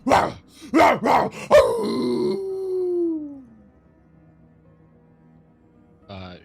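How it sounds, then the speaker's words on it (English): A wolf gives several loud, close barking yelps in quick succession, then a long wavering howl that slides downward and fades, followed by quiet and a brief rough sound at the end. "the wolf responds, and he just continues with these wild howls and barks at you"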